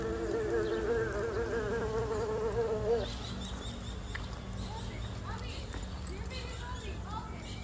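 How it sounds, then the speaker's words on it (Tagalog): A large fly buzzes loudly and close for about three seconds, with a steady droning hum, then fades into a noisy outdoor background with faint chatter, at a dinosaur-themed park in Clark, Pampanga. "Laki naman langaw nito."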